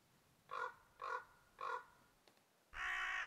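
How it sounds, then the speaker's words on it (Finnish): Crow giving three evenly spaced harsh caws at moderate distance, followed by a longer, louder call, over a quiet outdoor background during an ice-fishing trek. "Varis varmaan huuttaa siellä"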